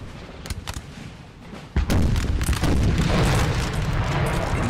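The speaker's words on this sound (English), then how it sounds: "This artillery, the closer you get to it, guys, the more deadly this artillery is gonna actually become" Artillery fire on a Napoleonic Total War 3 battlefield, a few distant booms at first, then a heavy roaring salvo that keeps rumbling loudly to the end, with faint voices underneath.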